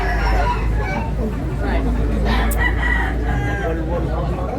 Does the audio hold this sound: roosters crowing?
yes